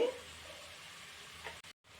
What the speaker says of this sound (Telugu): ఇప్పుడు బాగా కలిసేలాగా ఒకసారి కలుపుకుందాం